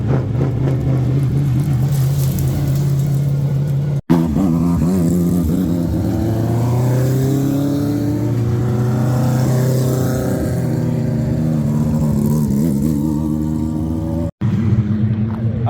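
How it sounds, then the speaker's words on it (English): Legends race cars with motorcycle engines scream around a freshly paved short track before a packed crowd, a continuous loud high-revving drone with shifting pitch as cars pass close by. "this is my first time seeing the Legends cars"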